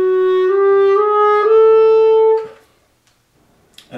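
A clarinet plays a short legato phrase of a few rising notes from Brahms' Piano Quartet Op. 25 in Schoenberg's orchestration, clear and close, then stops, leaving quiet with a faint rustle at the end.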